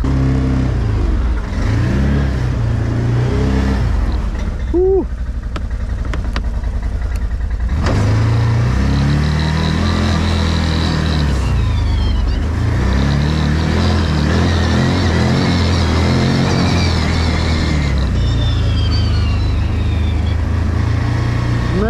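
An Odes 1000 off-road vehicle on tarmac, its engine loud and close, revving up and dropping through repeated throttle changes, with a brief pause before pulling away again.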